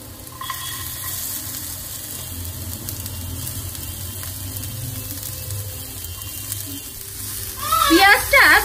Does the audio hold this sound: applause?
no